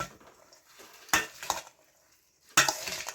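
A salad dressed with vinegar and refined oil is tossed and mixed, two sharp bursts of clattering and wet rustling separated by quieter pauses, close and fairly faint.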